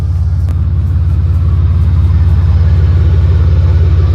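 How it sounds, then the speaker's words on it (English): A BMW E34 Touring with an S52 engine idles up close, a loud, steady low rumble with an even pulsing rhythm and faint mechanical ticking over it, no voices. "No injectors leaking. It's idling perfect."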